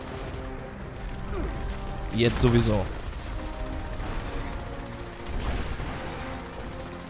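Rapid bursts of gunfire in Fallout 76 crackle over ongoing game noise, with someone talking in between the shots.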